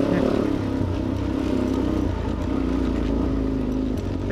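A motor vehicle on knobbly hard-compound tyres cruising past houses, a steady low engine drone with rumbling road noise throughout, close and continuous, with a voice partly audible over it.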